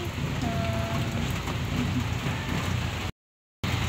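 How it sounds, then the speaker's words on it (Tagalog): Heavy rain pouring down steadily, a dense, loud wash of drops on surfaces continuing without pause apart from a brief cut, with no voices. "nabuhos na naman po ang ulan"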